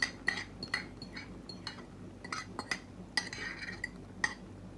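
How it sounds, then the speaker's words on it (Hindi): An egg is cracked and added to a pan of heated oil for a Western-style omelette, a series of light, sharp clinks and taps against the pan and utensils spaced irregularly, close and fairly quiet, with no talking. "अंडा डाल रही हूँ"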